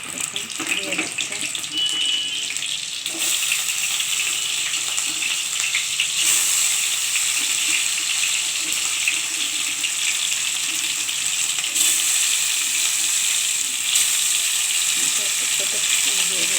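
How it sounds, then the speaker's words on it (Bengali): Pieces of katla fish fry in hot mustard oil, giving a continuous, even sizzle and crackle that stays loud and close throughout. "এখন কাতলা মাছের পিসগুলো ভাজা পিস, মাছটা ভাজা হচ্ছে"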